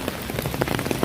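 Heavy rain falls in Paradeep as a dense, steady patter of drops on surfaces, close and continuous through the short moment, with no voices.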